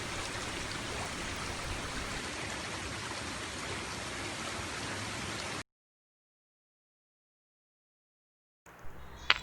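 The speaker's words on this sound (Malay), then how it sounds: "Di sini terdapat sebuah sungai kecil yang boleh dijadikan sebagai sumber makanan dan minuman." A small forest stream flows with a steady broadband rush of water, constant and moderately near for several seconds before cutting to silence, then a brief return of outdoor sound.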